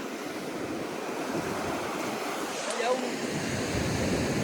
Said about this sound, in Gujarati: અહીંયા જોઈ શકો તમે કેવડા મોજા આવે ભાઈ